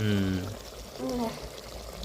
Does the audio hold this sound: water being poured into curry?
yes